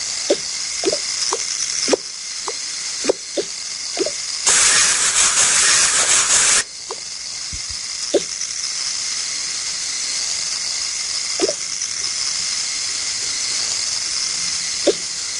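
Water sprays during hair washing in the Toca Life game, a steady hissing burst lasting about two seconds mid-clip, set among short clicky game sound effects over a constant background music bed.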